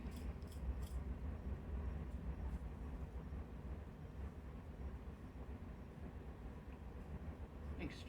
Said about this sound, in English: Can you guys hear that train?